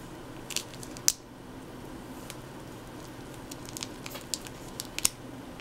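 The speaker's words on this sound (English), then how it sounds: "you're going to take your ground beef, and you're just gonna cut it open." A ground beef package is cut open up close, with faint crinkles and a few sharp plastic snips and pops scattered across a quiet background.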